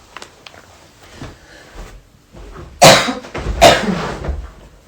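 Two harsh, close coughs caused by incense smoke, heard after some quieter rustling and breathing and followed by lighter movement noise.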